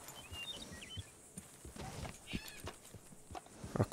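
A horse's hooves clop irregularly in Red Dead Redemption 2, faint and somewhat distant, mixed with outdoor game ambience and a brief bird call.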